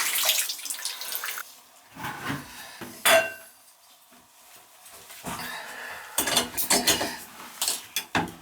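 Water splatters irregularly out of a bathtub spout during a tub and shower diverter spout replacement, heard as close, uneven splashing bursts separated by quieter gaps.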